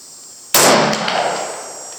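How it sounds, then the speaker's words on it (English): An 1843 Hall percussion carbine fires once, a sharp close-up blast from the cap and charge followed by a ringing tail that fades over about a second and a half. "Now, upon firing,"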